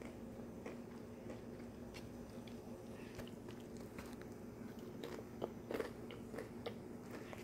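Crunchy bites and soft chewing of nacho pasta with cookie, heard close and quiet, with irregular crisp clicks and crunches against a low, faint background.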